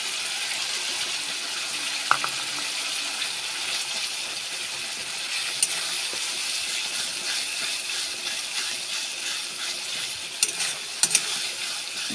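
Ginger garlic paste frying in a pan for Bengali chicken kosha, a steady bright sizzle with occasional stirring clinks of a spatula against the pan.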